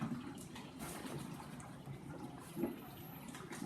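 Dry ice dropped into water in a chemistry demonstration, a faint steady bubbling and fizzing with soft gurgling pops, quiet and close, no voices over it.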